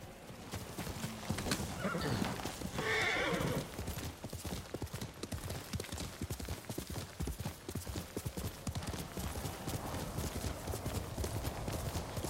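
Rapid clip-clop of horse hooves galloping in Ghost of Tsushima, steady and close throughout, with a brief neigh early on.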